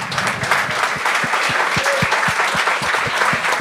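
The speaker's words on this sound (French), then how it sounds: "les gens applaudissent, j'applaudis" Studio audience applause on a Quebec comedy talk show, sustained loud clapping from many people with a steady rhythmic beat of heavier claps or stomps running underneath.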